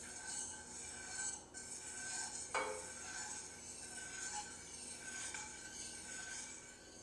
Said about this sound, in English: add this mixture very slowly while you continue to stir the soup